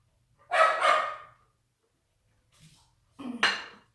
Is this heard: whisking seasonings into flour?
yes